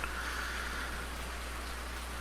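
Steady, even rain falls in Farming Simulator 19 as a dense hiss of drops on surfaces under a constant low hum. It is continuous and moderately loud, with no voices.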